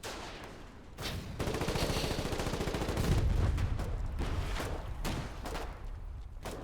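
Sustained gunfire in the war game Foxhole, rapid bursts of rifle and machine-gun shots rattling almost continuously, with a heavier thump midway and brief pauses between volleys.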